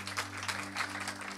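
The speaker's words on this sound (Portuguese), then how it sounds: "Aplauda bem forte a Jesus." A church congregation applauding together during a worship service, a steady wash of clapping with a low organ or keyboard chord held underneath.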